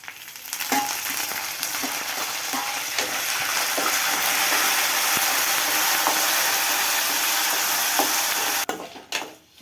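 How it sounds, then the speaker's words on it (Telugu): Dry red chillies and curry leaves spluttering in hot oil for a tempering, a loud continuous close-up sizzle with scattered crackles that stops abruptly near the end, no talking. "ఎండు మిరకాయలు కూడా వేసేస్తున్నాం కరివేపాకు"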